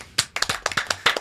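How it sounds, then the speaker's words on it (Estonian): A small podcast audience claps to celebrate a newborn: about ten close, crisp handclaps in a quick, slightly uneven rhythm over roughly a second, with no talking. "teeme selle aplausi"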